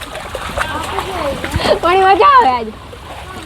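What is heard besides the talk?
feet splashing in rainwater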